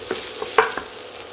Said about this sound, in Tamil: லேசாக வாசம் வர்ற வரைக்கும் வறுத்துக்கலாம்.